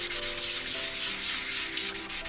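Rough spots on Yamaha FZ600 motorcycle bodywork are sanded by hand during a restoration, producing close, repeated rasping strokes in a steady back-and-forth rhythm.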